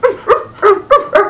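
A Samoyed dog makes little vocal noises while dreaming, five short soft woofs and whimpering yips in a quick, even rhythm, close and clear with no other sound.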